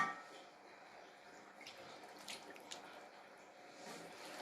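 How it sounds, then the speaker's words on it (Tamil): A faint trickle of water being poured into snack batter, with soft splashes and a few brighter drips against a quiet background. "இன்னும் கொஞ்சம் தண்ணி ஊற்றணும்"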